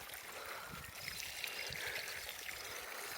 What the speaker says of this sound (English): And I hear water trickling.